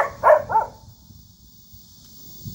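A dog at a doghouse beside a rural village hall in Hongseong, South Korea, gives two quick close barks, then quiet background hum with faint rustling.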